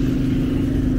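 A car drives along a resort street in Playa del Inglés, Maspalomas, on Gran Canaria, giving a steady, close, low engine hum with no voices.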